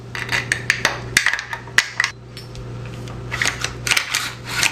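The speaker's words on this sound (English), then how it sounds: "And reinstall the pin. Reinstall your bolt." Metallic clicks and knocks of a pin and bolt being reinstalled in a Benelli Super 90 shotgun, a busy run of sharp taps and clacks over a steady background hum.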